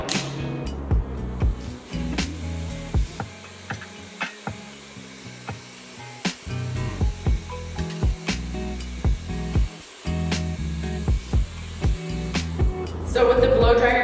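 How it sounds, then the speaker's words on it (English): A handheld blow dryer aimed at the roots of hair during beach-wave styling produces a continuous close airy roar, broken by repeated brief knocks and brushing sounds as the dryer and hands move. "So with the blow dryer, you notice I focused on the root and getting that lift to the root."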